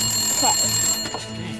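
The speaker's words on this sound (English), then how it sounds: "Oh, that's the phone." A telephone rings indoors in a short burst with a bright trilling bell, loud and close, while a voice talks over it.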